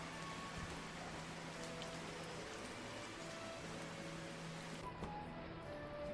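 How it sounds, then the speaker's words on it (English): Steady hiss of rain from indoors in a cat-themed video game, dense and even, muffled and continuous with no voices. "When we go inside, the sound of the rain changes to what it would sound like if you're inside"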